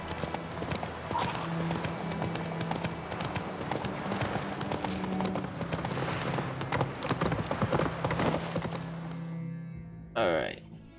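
Horse hooves clip-clop steadily in The Witcher 3 video game, a continuous galloping rhythm running under game music and ambience for most of the stretch before cutting off near the end.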